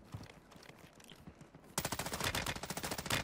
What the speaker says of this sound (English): I got that kid shooting you.